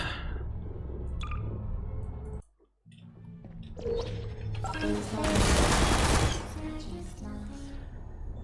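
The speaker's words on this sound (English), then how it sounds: "Three turrets that all see me and fill me with bullets" Turrets in the video game Portal fire a rapid, dense burst of gunfire. The sound builds in the second half, loud and close over mixed game sounds, with a brief silent gap before it.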